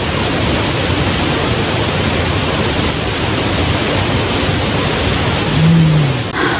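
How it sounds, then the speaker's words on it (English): Light rain sprinkles down at a campsite on the Foothills Trail, a dense, even hiss that stays steady and fairly loud throughout, with a brief low rumble near the end. "it started raining a little bit, so I'm in my tent"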